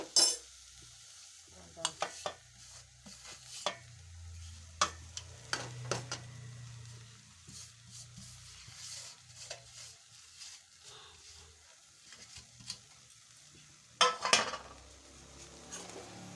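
Toor dal being added to a frying pan and stirred: sharp spoon scrapes and clinks against the pan over a faint sizzle, sparse at first with a louder burst near the end, no talk.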